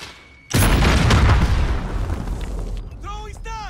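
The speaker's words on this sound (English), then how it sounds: "Throwing grenades." A grenade blast in Call of Duty: Modern Warfare, a sudden loud boom that rolls out into a long rumbling decay, followed by a voice speaking near the end.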